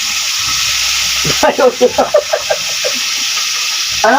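Tulingan fish frying in hot oil, a steady sizzle running through the clip with a few sharp crackles and pops, loud and close.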